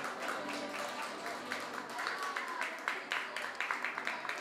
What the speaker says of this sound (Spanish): Adelante, el aplauso para Francesco.